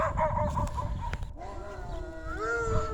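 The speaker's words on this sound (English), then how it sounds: "Got some hound dogs over here. You hear them?" Several hound dogs bark and yelp in the distance, followed by a drawn-out baying howl, with faint background noise.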